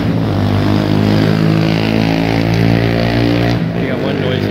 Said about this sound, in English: You got one noisy motorcycle.